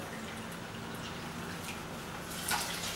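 Water pours into a pot holding a cup of quinoa as a steady, soft, faint splashing wash with a slight surge near the end and no speech.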